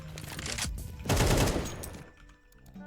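Rapid AK rifle fire in a Counter-Strike-style match on De_Victoria: a burst of fairly loud, close automatic shots, strongest midway through, then fading into quieter game ambience.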